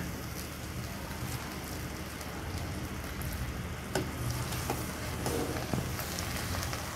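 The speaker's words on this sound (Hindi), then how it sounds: "इसको मिक्स करेंगे" Chana biryani mixed in a pot, a continuous dense hiss of steam and gentle scraping with a few soft clinks of a spoon against the pot, steady and fairly close.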